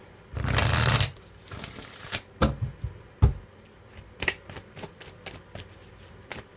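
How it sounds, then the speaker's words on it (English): Moonology oracle deck cards riffled and shuffled by hand: one long dense burst of shuffling, then a run of sharp, separate card snaps and taps, close and alone with no voice. "I'm gonna get one more shuffle in."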